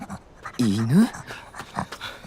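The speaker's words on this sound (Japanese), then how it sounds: "犬？" A dog pants in quick breathy bursts around voices speaking Japanese, with a short whining tone in the middle of the sequence.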